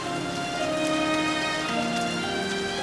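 Steady rain falling, a continuous wash of drops heard close and fairly loud throughout, with faint tonal music running underneath.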